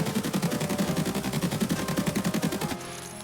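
Rapid automatic fire from an AKS-74UB shooting BS rounds in the video game Escape from Tarkov, a steady loud burst of closely spaced shots lasting under three seconds, then cutting off into silence.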